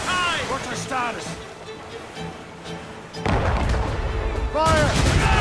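Explosive shots fired during a naval battle in Assassin's Creed Rogue, heavy booms and cannon-like blasts, with the loudest hitting midway and carrying to the end, under shouting voices.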